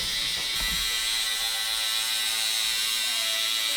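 A microneedling pen runs on its lowest setting, giving a steady, thin, high-pitched electric buzz held close and constant throughout, with no speech.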